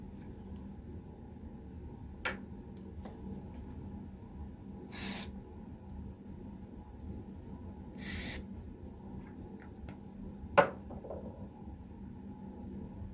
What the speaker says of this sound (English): I just use a Dove spray on deodorant